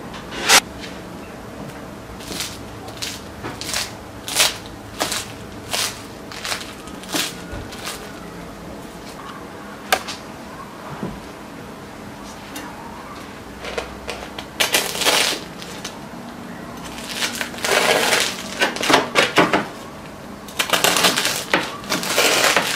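A knife saws through crispy oven-baked pide made from stale bread, sharp crackling crunches in irregular bursts that cluster and intensify toward the end, close and with no talking.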